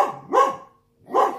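Two sharp dog barks, close and loud, separated by a short pause.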